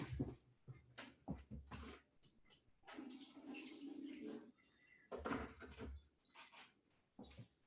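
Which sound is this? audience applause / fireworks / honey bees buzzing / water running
water running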